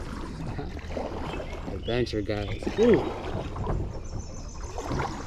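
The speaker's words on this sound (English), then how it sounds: "The water's moving very fast, and it can be narrow" Fast-flowing creek water rushes steadily around a small boat or kayak, a close, continuous broadband wash under excited voices calling out.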